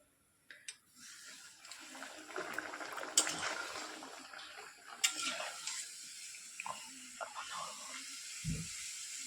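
Luchi frying in hot oil in a home kitchen, a soft continuous hiss and sizzle with occasional bubbling pops and small clinks, fairly quiet and close.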